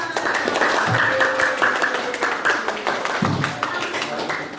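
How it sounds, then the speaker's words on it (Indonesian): Students clap together in a classroom during a lesson on the water cycle, with brisk steady clapping close by and voices mixed in throughout. "Tepuk tangan untuk kita semua."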